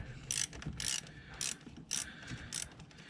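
A 10mm ratchet works a bolt loose on a factory Toyota evap canister bracket, making five or six quick, close clicking bursts at a steady rhythm. The clicks are fairly faint and no voices are heard.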